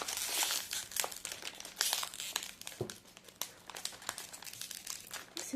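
Crinkly plastic wrapping of a blind box mystery toy being torn and crumpled open, with close, busy rustling and crackling bursts throughout and no speech.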